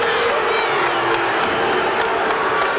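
A small crowd cheering and shouting at a 1976 UNC Charlotte versus San Francisco basketball game in Madison Square Garden, a steady, loud roar of voices with no clear break.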